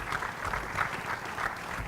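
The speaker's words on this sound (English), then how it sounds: "If we could give them a round of applause for everything that they do" Audience applause for first responders at a community forum on addiction deaths, a steady wash of clapping at moderate volume lasting under two seconds with no voices over it.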